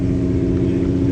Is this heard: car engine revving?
yes